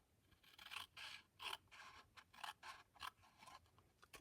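Scissors cut paper pieces for a junk journal, giving a steady series of crisp snipping strokes about every half second, close and quiet with no voices.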